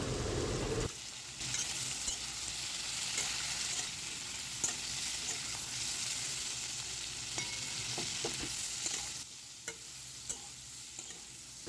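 Potatoes and pointed gourd frying in oil with turmeric, a steady close hiss and sizzle broken by scattered stirring scrapes and taps, continuous and fairly quiet with no talking.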